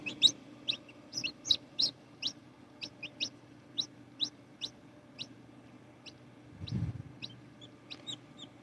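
A newly hatched chick calls from an incubator: a steady series of shrill, high peeping cheeps, spaced about half a second apart, fairly close but faint against a low background hum.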